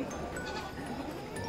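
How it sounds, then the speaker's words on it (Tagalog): Goats at a livestock auction market bleat in a continuous, wavering chorus over a busy, crowded background. "At una natin makikita mga kambing."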